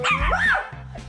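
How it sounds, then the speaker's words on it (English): A pet dog gives a single loud bark that slides into a whining, yelping tail, close to the listener, followed by a brief quieter sound near the end. "Dumb dog."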